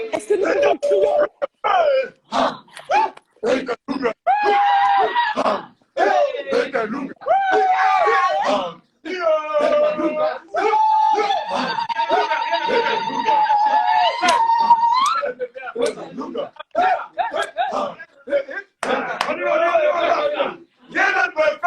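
A crowd at a motivational gospel gathering shouts and screams in bursts, loud and close, with sustained wailing cries swelling between short pauses.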